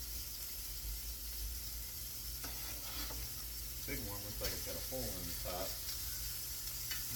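A cheese-filled hamburger patty sizzles in hot oil with a continuous crackling hiss, while a person talks intermittently over the steady frying.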